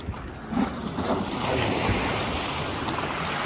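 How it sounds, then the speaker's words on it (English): Small waves from a passing ship's wake wash and splash against the muddy Thames foreshore at Wapping, a steady broadband surge with wind buffeting the microphone, no voices. "I think it was that blasted ship creating a wake"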